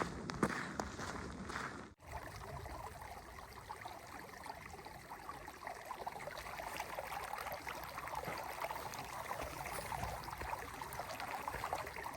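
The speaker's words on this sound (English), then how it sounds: "there's a creek up here" A mountain creek along the Pacific Crest Trail flows and trickles steadily as a soft, continuous wash of water, with a brief rustle near the start.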